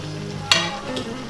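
Chopped cabbage dropped into a hot frying pan while cooking pansit bihon, a sharp burst of sizzle and a scraping stir against the pan, short and close.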